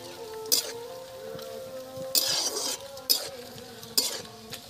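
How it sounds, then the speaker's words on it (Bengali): Bay leaf, cardamom, cloves, cinnamon and cashews fry in oil for pulao, a low steady sizzle broken by several sharp stirring clinks of a spoon against the pan. "এখন আমি ফোড়নে তেজপাতা দিচ্ছি, এলাচ লবঙ্গ দারচিনি দিয়ে দিচ্ছি কাজু"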